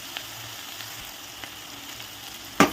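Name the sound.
vegetable curry frying in a pan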